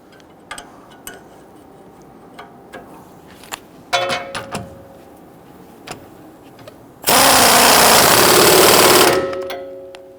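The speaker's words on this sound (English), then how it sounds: "Tighten down the forward lower link arm bolt." A power tool tightens the forward lower link arm bolt on the rear suspension of a 2010–2019 Ford Taurus: a loud, steady two-second burst of whirring after scattered light clanks and taps of handling parts.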